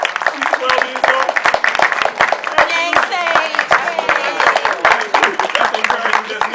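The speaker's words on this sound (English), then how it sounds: "That's a real clap." An audience claps for a 12-year-old girl at an anti-bullying event, with sharp, dense, close hand claps throughout and voices talking and calling out over the applause.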